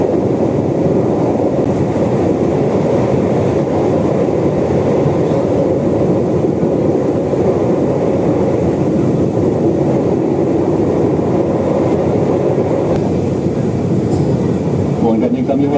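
KRL commuter electric train running on the Jogja–Solo line, a loud continuous rumble and rolling roar heard from inside the carriage, steady throughout with faint hum and rattle.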